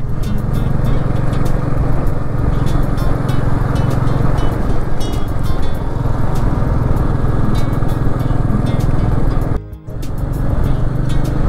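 Steady loud motorcycle engine drone and wind rush while riding on a Ladakh road, overtaking other riders one by one, continuous throughout with a brief dip near the end.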